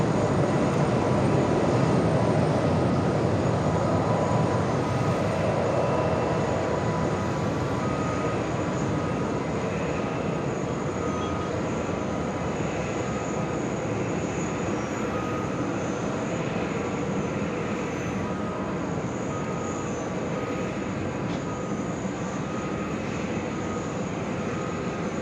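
A JetBlue Embraer E190AR airliner taxis at JFK, its engines giving a loud, continuous broadband roar and whine that holds steady throughout with no talking.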